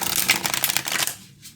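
Large tarot cards being shuffled by hand, a dense riffling flutter of card edges running for over a second before thinning out into a few soft slaps, close and alone.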